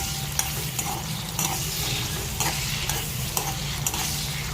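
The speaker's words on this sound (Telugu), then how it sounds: "ఆనియన్స్ అనేవి ఫ్రై అవుతున్నాయి." Onions and tomatoes fry in a pan for an aloo gobi gravy curry: a steady, close sizzle broken by regular light clicks of stirring, with no voices.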